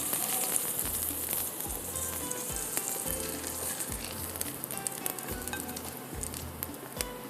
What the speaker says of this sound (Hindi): जिस तरह से वो चटकने शुरू हो जाते हैं, जब ये फ्राई होते हैं थोड़े से चटकने शुरू हो जाते हैं